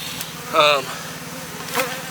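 Honey bees buzz in a split hive colony as they work in the super. A close buzz swells briefly, fades, and returns once more over a soft background hum.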